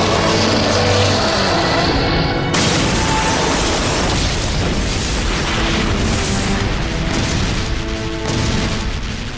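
Explosions and roaring fire erupt in a night battle from the 2005 Ultraman Max tokusatsu series, with loud, sustained booming blasts and crackling rumble that continue without pause.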